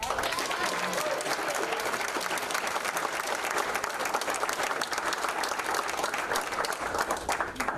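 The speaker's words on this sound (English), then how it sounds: "but I want to give a round of applause for Gavin Bishop." A high school crowd applauds steadily at a senior athlete commitment day, dense clapping filling the room at an even, loud level throughout with no talk over it.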